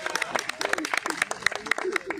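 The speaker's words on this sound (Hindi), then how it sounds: "तालियां तालियां।" An audience at a railway Corona warriors poetry gathering applauds, a scattered run of claps over a lively crowd, fairly close.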